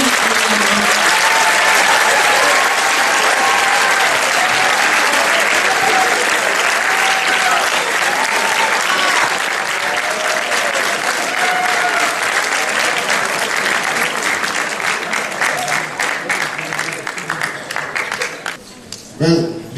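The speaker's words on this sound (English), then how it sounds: "Please, can I have a very big round of applause for the man himself, Mr. Yeffery." Conference audience applauds loudly and continuously, dense clapping filling the hall before tapering toward the end, with a few voices mixed in.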